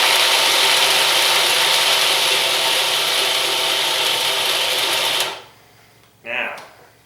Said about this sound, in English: All right, let's pulse this again.